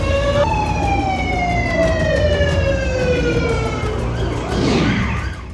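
A wailing civil defence siren sounds during a mock drill, loud and continuous, its pitch sliding slowly downward over several seconds against steady background noise.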